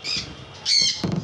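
Pineapple conure parrots give two short bursts of harsh, shrill squawks close by, with a brief pause between them.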